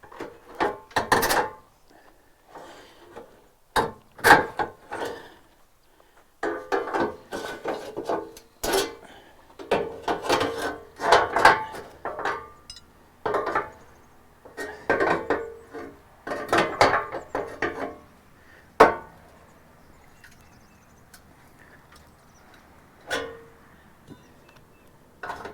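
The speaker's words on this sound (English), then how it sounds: "We're gonna have to get the pry bar out." Metal clunks and scraping knocks come as a pry bar works bent parts off a salvage 2009 Pontiac G5, in irregular bursts of close, sharp impacts separated by quiet pauses.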